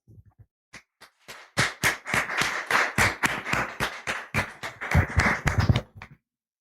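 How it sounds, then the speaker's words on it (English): An audience applauds a speaker introduced at a talk event, starting with a few scattered claps before swelling into steady, fairly close clapping for about five seconds, then stopping abruptly. "A round of applause, please."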